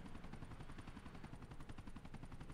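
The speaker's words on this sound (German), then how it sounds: "Wir haben auch sogar gerade einen Heli." Police helicopter in GTA IV during a chase, a loud steady rotor chop with rapid rhythmic thumping that holds throughout, no talk over it.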